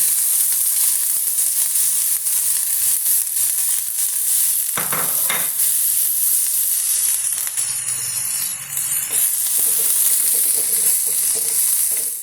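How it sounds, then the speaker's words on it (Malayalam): Finely chopped onion dropped into a teaspoon of hot oil for a rice-ball curry, a loud dense hiss that holds steady throughout, with a sharper burst of stirring and spatter near the middle; no voices. "ഒരു ടീസ്പൂൺ എണ്ണ ഒഴിച്ചിട്ടുണ്ട്. ഇതിലേക്ക് നമ്മൾ 2 സവാള എടുത്ത് വെച്ചാൽ അതിൽ ഒരു സവാള ഞാൻ കൊത്തി അരിഞ്ഞിട്ടുണ്ട്. അത് ഇതിലോട്ട് ഇടുകയാണ്."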